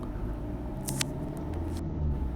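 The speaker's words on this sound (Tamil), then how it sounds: "கொஞ்சம் டிராஃபிக்காக தான் இருக்கும் இந்த ரோடு எப்பவுமே கொஞ்சம் பிஸியாகவே இருக்கும்" Busy road traffic in Tamil Nadu at school time gives a steady low rumble of passing vehicles, moderately loud, with a few brief higher hisses or horn-like bursts over it.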